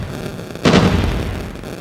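A single sharp grenade explosion in Call of Duty Mobile bursts out after a brief lull, followed by a rumbling low decay that fades slowly.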